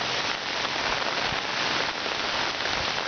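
Rain falling in the aftermath of Hurricane Irene in Summit, New Jersey, a steady close hiss of drops pattering on surfaces with no voices.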